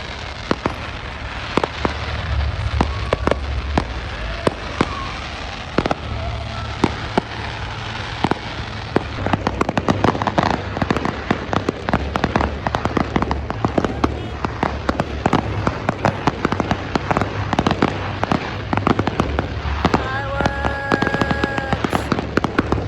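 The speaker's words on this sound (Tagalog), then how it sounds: "So, it's 10 seconds and here na ang fireworks." Fireworks explode in dense, rapid crackling bursts and booms over a family outing, continuous throughout with some sharp louder bangs and faint voices in the crowd.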